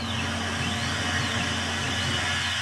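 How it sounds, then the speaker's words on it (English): A Tormach 770 CNC mill spindle runs at steady speed, a continuous high whine with a low hum beneath, close and even throughout without pauses. "click cycle start. The spindle has started."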